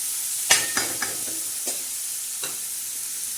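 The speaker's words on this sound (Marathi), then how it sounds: "आता हे छान मस्त परतायचं." Amaranth greens stir-fry on a griddle with green chilli and garlic thecha, a constant close sizzle broken by a quick run of sharp spatula scrapes early on and two more later.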